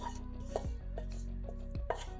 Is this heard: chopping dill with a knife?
yes